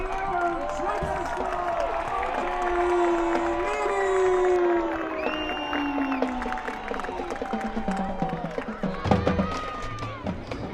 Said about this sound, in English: let's hear one big round of applause for Dracut